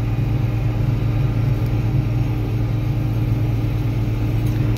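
A tractor pulls a 34-foot Case IH 3950 field disc, giving a steady, close low engine drone with a faint higher whine layered over it.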